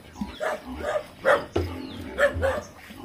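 A dog barks in short, repeated bursts at close range, about five or six sharp yips and barks spaced through the moment, with light background noise between them.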